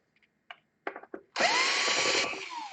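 A power screwdriver whirs close up against an Alienware 18 laptop during repair, removing the hard drive screws: a few short bursts, then a sustained steady whine that rises slightly before easing off.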